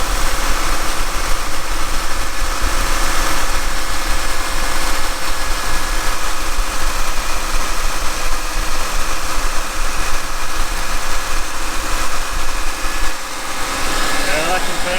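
A rusty 351 Cleveland engine in an LTD, dormant for 15 years, idles steadily with a constant low rumble and rattle, unchanging throughout, with no clear voices.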